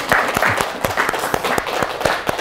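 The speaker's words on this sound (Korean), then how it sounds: "또 박수 한번 칩시다." Rhythmic, fairly loud clapping from an audience at a lecture in Sancheong, with steady evenly spaced claps and no talk over them.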